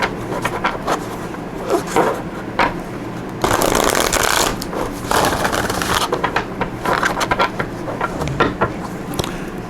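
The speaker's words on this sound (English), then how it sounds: "Give them a good shuffle here." Tarot cards are shuffled vigorously and close up, a dense run of riffling, flicking card noise with one louder sustained burst midway, no talking.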